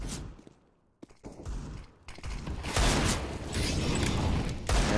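Rifle fire rings out in a CS:GO match, sharp loud cracks set in dense game noise and clatter, with a steady roar of crowd or background ambience beneath.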